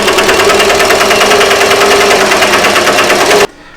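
Embroidery machine stitching on a youth varsity jacket, a loud, steady rapid mechanical chatter close by that runs continuously and then stops abruptly near the end.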